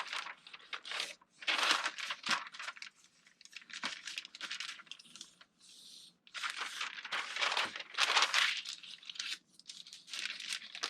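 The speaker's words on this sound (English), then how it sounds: "folding the paper along your dart" Pattern paper folded along a dart leg during pattern truing, heard as close, bursty crinkling and rustling in irregular clusters with brief quiet gaps, no talking.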